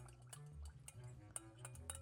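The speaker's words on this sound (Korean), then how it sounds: "미리 넣기 전에 조금 저어줄게요." A slush drink mixture is stirred in a container before freezing, with soft liquid swirling and scattered light clinks of a utensil against the sides, quiet and close.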